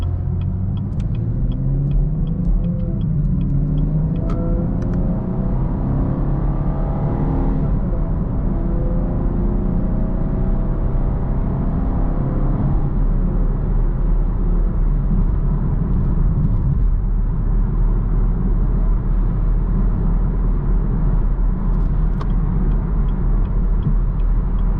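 A 2019 Chevrolet Camaro 1LT accelerates from inside the cabin, its engine note climbing steadily through a gear change before settling into a loud, continuous road rumble and drone.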